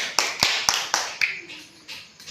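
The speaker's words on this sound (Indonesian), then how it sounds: "Tepuk tangan dulu untuk Astin." Classroom students clap for a classmate in a series of sharp, evenly spaced claps, about five distinct beats close together, then softer scattered claps trailing off.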